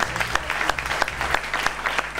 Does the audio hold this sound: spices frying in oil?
no